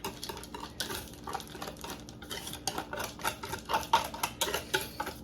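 Butter being worked into biscuit batter in a bowl, a steady run of close clinks, scrapes and soft taps from a utensil against the dish with irregular rhythm and no talk.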